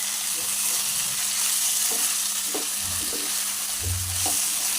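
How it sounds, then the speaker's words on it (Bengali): Mutton chunks sizzle in hot oil with ginger paste while being stirred in a pan, a constant close frying hiss broken by a few dull scraping and knocking strokes. "মাংসের সাথে এইভাবে কষিয়ে নিতে হবে।"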